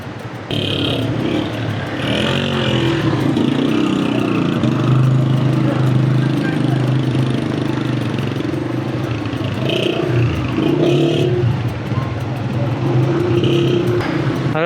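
A vehicle engine labors and revs on a narrow, rocky mountain road leading to Batrik Village, loud and close, with rising surges and rattling clatter over a steady rumble throughout.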